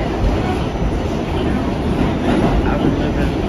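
A New York City subway train roars steadily at close range, a dense continuous rumble and rattle with faint clickety-clack throughout.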